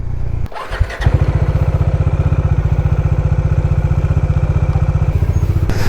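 Bajaj Dominar motorcycle on a ghat road, its engine loud and close after a short burst of noise, settling into a steady pulsing thump that holds throughout.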